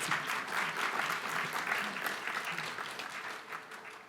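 An audience at a launch event applauds in a sustained, even round of many hands, fairly distant and moderately quiet, gradually tapering toward the end.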